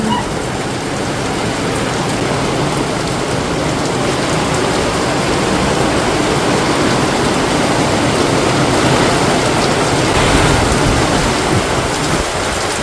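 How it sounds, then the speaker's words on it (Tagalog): Heavy rain pours down on a mountain in a dense, unbroken hiss, loud and close, with a low rumble underneath, accompanied by wind. "Umulan na po ng malakas"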